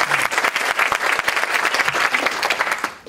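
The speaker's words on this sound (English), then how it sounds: "Let's give a round of applause to all of our moderators and speakers today." Audience at a cardiovascular medical symposium applauding moderators and speakers, a short, loud burst of many hands clapping with sharp individual claps standing out near the microphone.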